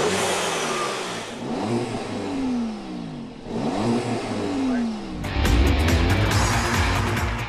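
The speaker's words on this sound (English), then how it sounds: "A 2-liter engine shoots this little machine forward in no time" A small S1 car with a 2-liter engine revs and accelerates in repeated rising pulls, the engine note climbing and falling close by, ending in a loud, rough burst.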